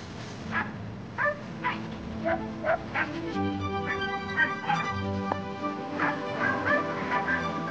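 A hunting dog gives repeated short yips, barks and whimpers while working to pick up a scent on windy tracks outdoors, set against steady background noise with a faint voice.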